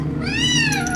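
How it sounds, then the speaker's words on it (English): A cat gives a single drawn-out, rising then falling yowling meow, loud and close, lasting about a second with no talk over it. "The cat! Look out for the cat!"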